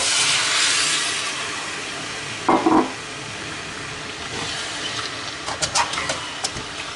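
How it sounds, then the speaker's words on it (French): Red wine hitting a hot pan during a beef sauté, a loud hissing sizzle at the start that fades to a softer simmer, with a few clinks and stirring knocks later on. "30 secondes, je mets mon vin rouge"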